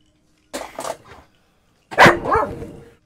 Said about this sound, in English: my dog is barking at me